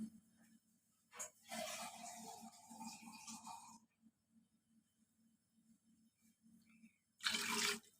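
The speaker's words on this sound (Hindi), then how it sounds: "ये तकरीबन 1 किलो के पास पानी हमने इसमें डाल दिया, 1 लीटर" Water pours in two separate bursts, splashing into a cooking pot for chicken curry, with a low steady hum underneath and quiet gaps between.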